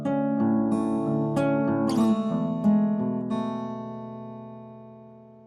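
Fingerpicked acoustic guitar plays a steady picking pattern that slides from one chord to the next, ringing notes sustaining and fading toward the end, played alone with no voice.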